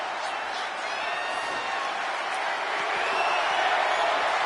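A wrestling crowd at a live event chanting for tables, a broad roar of many voices rising slightly toward the end, heard at a distance.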